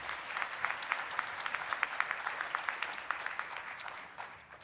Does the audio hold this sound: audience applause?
yes